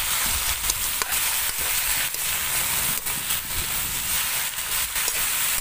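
Soy sauce goes into duck adobo in coconut milk, Bicol style, frying in a pan over a wood fire. It raises a loud, steady sizzle, broken by occasional stirring clicks and scrapes, with no talking.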